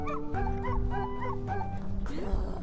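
A puppy fairy character in the video game Wandersong gives a run of small, bright yips and barks over the game's steady musical background, ending in a brief burst of noise.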